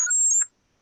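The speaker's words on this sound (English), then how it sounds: "That's the fire alarm." Electronic fire alarm in the Second Life virtual world: a brief, shrill high-pitched tone with a lower buzzing layer, sounding close and loud for about half a second before cutting off into silence.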